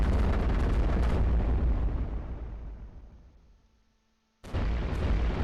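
Heavy cannon fire in the iBomber Defense strategy game, aimed at enemy armor: a loud sustained barrage of booming blasts that fades out over several seconds, a brief quiet, then another loud burst of fire.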